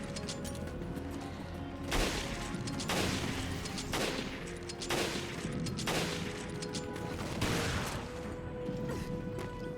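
Repeated gunfire from the video game Resident Evil Revelations as hunter enemies are shot in a Raid mode stage, loud bursts arriving every second or so over a constant droning game ambience and background music.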